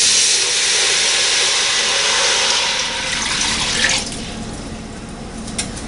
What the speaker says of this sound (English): now I'm going to add the water.